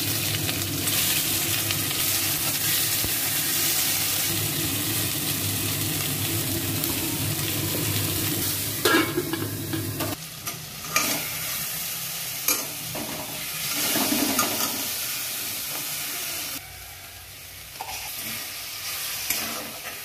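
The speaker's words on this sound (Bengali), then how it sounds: "সরষে ফোড়ন দিচ্ছি" Mustard seeds sizzle in hot oil in a wok for a Bengali chaltar chutney, a steady loud frying hiss that later breaks into bursts of crackle and stirring with no talk.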